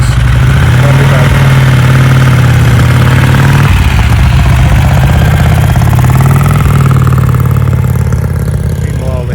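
An old British motorcycle, a Norton, Vincent or Brough Superior, idles loudly and close at a steady low throb after being kick-started outdoors at a cricket ground, with a brief change in engine note midway and people talking underneath.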